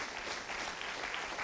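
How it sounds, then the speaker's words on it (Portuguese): Church congregation applauding steadily throughout, a dense even clapping from a crowd at a worship service, with no voices standing out. "Vamos aplaudir a Jesus mais uma vez?"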